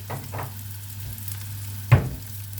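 Onion with red pepper fries in a pan with a constant low sizzle, and a few quick stirring scrapes come through close by, the last one the loudest.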